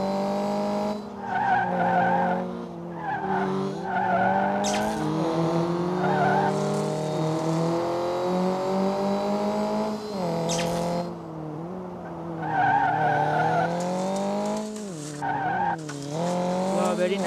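Rally cars in the Rally Fury mobile racing game skid and drift with sustained tyre squeals over loud, whining engines, the squeals rising and falling in repeated bursts across the stretch.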